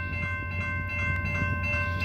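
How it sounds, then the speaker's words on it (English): A slow CSX freight train passes nearby with a steady low rumble, a sustained tonal whine and a few faint clanks, continuous and fairly loud. "because we got a train coming"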